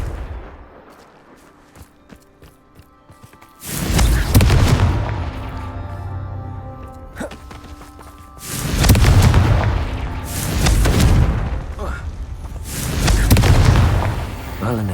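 Confringo fire spells in the Hogwarts Legacy video game explode in a quiet lull broken by four heavy, booming blasts, each loud and rumbling with a lingering roar before fading.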